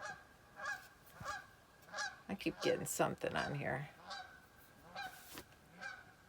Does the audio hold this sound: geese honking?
yes